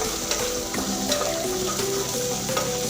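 A tomato cooks in spiced oil in a pan, giving a loud, continuous sizzle with soft stirring scrapes and a faint tonal hum running beneath it.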